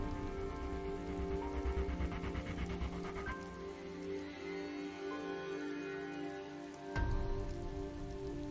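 Rain falls steadily in a quiet, continuous patter with some soft rustling, faint throughout and with no talking.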